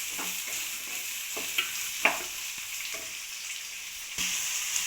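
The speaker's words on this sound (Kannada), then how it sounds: "ಈರುಳ್ಳಿ ಚೆನ್ನಾಗಿ ಫ್ರೈ ಆಯ್ತಾ ಇದೆ" Chopped onions and green chillies frying in a pan, a steady close hiss of sizzling oil with a few sharp spatters and scraping stirs, no talking, made while cooking shavige uppittu.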